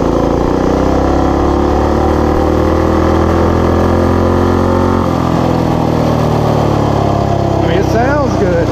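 A Coleman BT200X mini bike engine runs steadily at a loud, even idle-like drone, its pitch shifting slightly partway through and rising in brief revs near the end, with someone talking over it.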